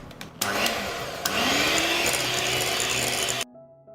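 An electric mixer beats batter with vanilla flavoring, a loud, steady mechanical whirring and grinding that starts abruptly, surges a little stronger midway, then cuts off sharply near the end.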